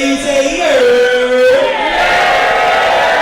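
A live concert crowd at S.O.B.'s nightclub shouts back in a loud sustained roar, voices blending into one long cheer, with a singer's voice rising above it.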